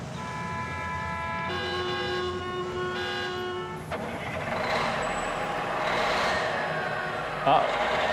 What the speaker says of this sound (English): Sounds like a bus. There's a lot of traffic.